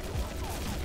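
Gunfire in XSHOT, an online shooter, during a Mummy Classic match: a short, dense burst of rapid shots that fills the whole moment without a break.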